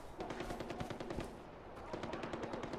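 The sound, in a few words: gunfire in Far Cry 4 video game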